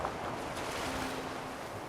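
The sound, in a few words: water noises in Fallout 4 video game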